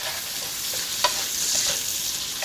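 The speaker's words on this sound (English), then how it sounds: "you cook your onions until it's begin to soften and it's a bit transparent" Onions fry in a pan with a steady bright sizzle, while a utensil stirs them now and then with soft scraping taps, close up and with no voices.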